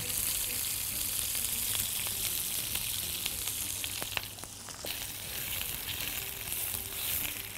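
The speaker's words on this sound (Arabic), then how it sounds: "نحط زبدة، الزبدة بتطعمه جدا" Butter sizzles in a pan with oil before chicken kofta goes in, a steady close frying hiss with scattered crackles and a few sharp ticks from the pan.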